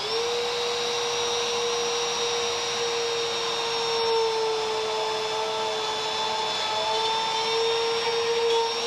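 Bosch Colt compact router on a plunge base cutting a mortise in wood, a steady high-pitched motor whine held at constant speed for the whole stretch, close and loud with no voices.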